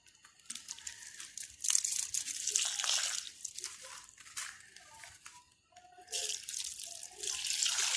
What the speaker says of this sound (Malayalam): നമുക്ക് ഇതിൽ വെള്ളം ചേർക്കാം.